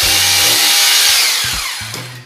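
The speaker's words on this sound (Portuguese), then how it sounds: "Vou pegar a furadeira, fazer a perfuração," A loud power drill whirs at high speed drilling a hole for a wall plug while building drywall furniture, its pitch dipping briefly as it bites in, then winding down near the end.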